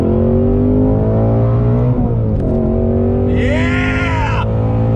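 A 2020 Ford Shelby GT350R's V8 revs loudly and steadily on throttle, its pitch sweeping up and down through shifts, close and dominant with no talk over it.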